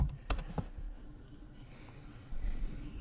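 Quick keystrokes on a computer keyboard while login credentials are entered during a Cosmos Cloud install on Proxmox: a short burst of close clicks, then quiet room hum.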